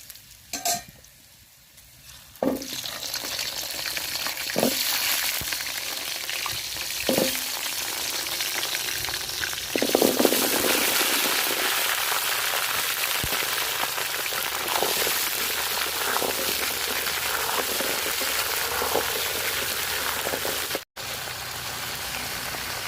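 Olives dropped into hot oil with cardamom and garlic for a pickle, bursting into a loud, steady sizzle that swells after the addition and crackles on continuously, with a few clinks of stirring.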